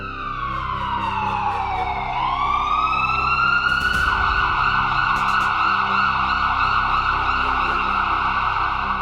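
Wailing emergency sirens from ambulances and fire brigade trucks overlap and rise and fall without a break, loud and sustained over traffic noise in a Kerala street after a series of blasts.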